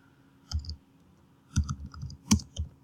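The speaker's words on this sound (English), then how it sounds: "So I'm going to type mv Forrest Gump." Computer keyboard tapped for a short command in a few quick clusters of crisp key clicks, close and quiet with silence between presses.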